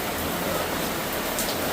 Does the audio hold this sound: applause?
no